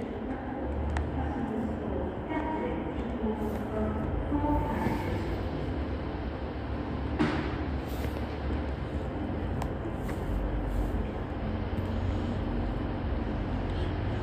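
A train departs Huddersfield station, a steady broadband rumble and rolling rail noise filling the whole stretch with a brief sharp squeal midway, fairly close and continuous.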